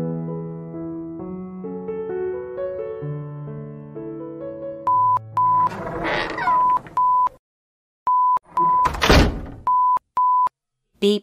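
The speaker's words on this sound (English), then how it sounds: "We now have set the home security alarm, so if we walk in or out of the house, the annoying beep signals twice." Short paired electronic beeps of a home security alarm sound repeatedly and clearly in a house, following a melodic tone sequence, with a door-like thump among them.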